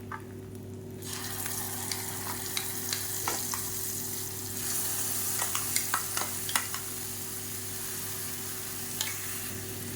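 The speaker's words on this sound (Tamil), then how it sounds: "இப்போ இது எல்லாமே சேர்ந்து நல்லா அப்படியே பொரிஞ்சு வரணும்." Fenugreek, curry leaves, asafoetida and a ground paste fry and sizzle in a pan with garlic, a steady crackle broken by scattered spoon stirs and scrapes over a constant low hum.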